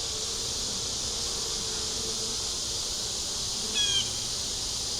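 Honeybees droning steadily around an open hive box with brood, pollen and larvae inside during a beetle-trap check: a continuous, even buzz, fairly close, with a brief bird chirp near the end and no talk.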